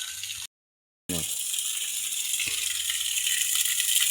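Steady rushing water flows continuously from a farm reservoir, close and fairly loud, with a brief silent gap near the start; no voices.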